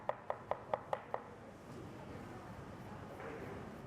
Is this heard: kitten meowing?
no